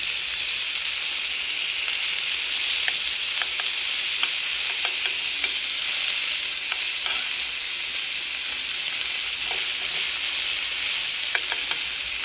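Fish frying in butter in a hot pan, giving a steady, loud, close sizzle with a constant hiss and scattered small pops and crackles throughout, with no talking.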